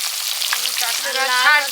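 Fresh katla fish fries in hot oil, with a dense bright crackling sizzle that runs throughout at a steady, fairly loud level.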